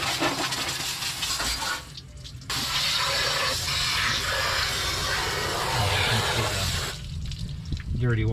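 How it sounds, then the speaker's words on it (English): Dirty water streams and splashes steadily off the undercarriage of a 1970 Plymouth Fury III during a wash, a continuous hissing spray with brief breaks in the flow. "Dirty water coming down"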